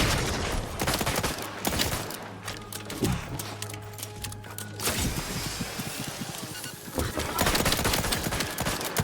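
Gunfire from Outer Worlds 2 crackles in rapid, repeated bursts throughout, with close, loud shots clustered in volleys and brief lulls between them.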